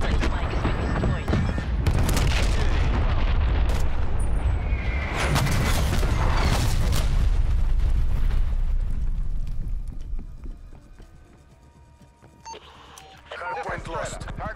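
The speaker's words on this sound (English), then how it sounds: "Artillery targeting detected." An artillery strike in Call of Duty: Black Ops Cold War during a Hardpoint match brings a loud run of overlapping booms and blasts that fades into quieter rumbling, with a game announcer voice speaking.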